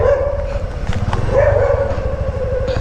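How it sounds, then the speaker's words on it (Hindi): Several local street dogs chase a delivery rider, barking and yipping in quick, overlapping bursts, with a whining, whimpering tone in between, loud and close over a rumbling background of traffic or a motor. "कुत्ते पीछे पड़ गए भाई।"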